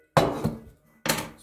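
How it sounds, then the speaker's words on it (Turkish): A knife chops onion on a board in a kitchen, giving a few sharp, close knocks: two quick cuts, a pause, then another firm strike, with no talk. "Soğanımızı doğrayalım."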